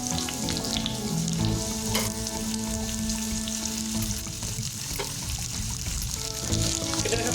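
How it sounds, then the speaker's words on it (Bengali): Chopped onions hitting hot oil in a wok, a loud dense continuous sizzle and frying hiss, close up and steady with no voices. "পেঁয়াজ কুচিগুলো কড়াইয়ের উপরে যোগ করে দিচ্ছি।"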